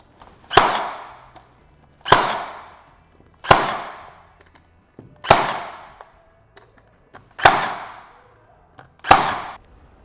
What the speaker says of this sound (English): now I have an exact location where I can fire these nails